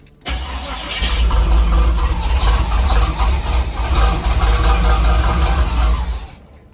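A 1983 Pontiac Trans Am fitted with a Holley carburetor cranks and catches with a loud, rough idle. It runs unevenly for about six seconds, then stalls and cuts out abruptly.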